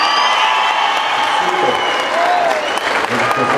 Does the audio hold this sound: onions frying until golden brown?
no